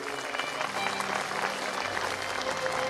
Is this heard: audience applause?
yes